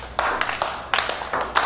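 An audience member claps alone with a few sharp, uneven claps spaced apart, close and fairly loud, no other voices.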